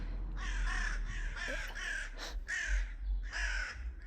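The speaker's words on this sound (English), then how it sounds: "whenever you're ready, crows" Crows in a garden give a series of loud, harsh caws in quick bursts, about six calls close by with brief gaps between them and no talk.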